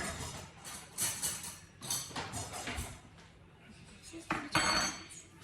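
A spoon is picked out from among kitchen utensils, with several light clinks and rattles of metal cutlery and dishes in short bursts, close and moderately quiet.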